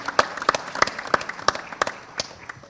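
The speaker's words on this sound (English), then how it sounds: "Round of applause for them." Audience at a national financial literacy quiz applauding a team, heard as a thin run of distinct, fairly evenly spaced claps at moderate distance, few hands and fading out.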